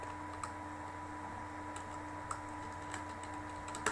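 Sparse, faint taps on a computer keyboard while writing Python code, with scattered keystrokes over a steady low electrical hum and no talk.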